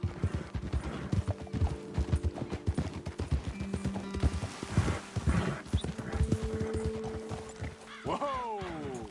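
Horses clip-clopping along in Red Dead Redemption 2, a steady run of close hoofbeats under faint talk, ending with a rising whinny as they pull up.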